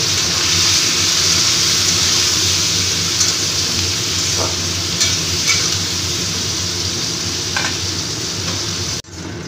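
Flat beans and potatoes fry with turmeric and salt in a pan, giving a loud, continuous close sizzle with a few soft stirring scrapes, cutting off abruptly near the end.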